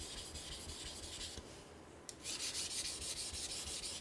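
Steel blade rubbing back and forth on a Tajima Nakatoishi Japanese natural whetstone during sharpening, a steady gritty rasp with a brief pause before the strokes resume, close and alone.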